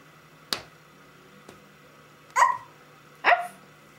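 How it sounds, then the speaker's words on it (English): A dog gives a few short, sharp barks spaced apart, with two louder yips near the end, alone in a quiet room. "What does the dog say?"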